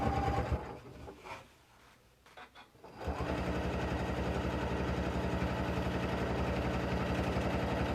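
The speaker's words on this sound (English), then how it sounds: "And I'm not even sewing even at full speed at all." Sewing machine stitching fabric with a quilt binder attachment, a few short starts and pauses, then a steady fast mechanical whirring and rapid needle chatter that continues close and loud.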